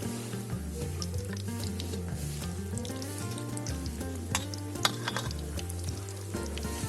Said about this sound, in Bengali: তো আমরা এরপরে এই বেটারটা ডুবো তেলে ভাজবো